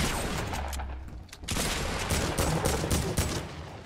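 A Fortnite player takes gunfire from behind, a dense, continuous rattle of rapid shots and impacts lasting several seconds, loud and close.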